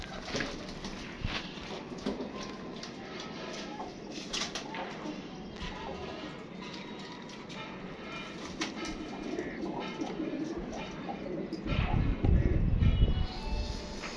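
Pigeons cooing at a pigeon-keeping setup, soft bird calls scattered over a busy background with a low rumble building near the end, no clear talk.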